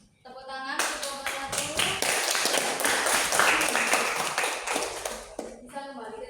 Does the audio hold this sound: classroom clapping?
yes